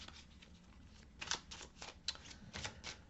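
Oracle cards being shuffled and drawn by hand, a quiet run of soft papery riffles and slaps in several short bursts against a faint room background.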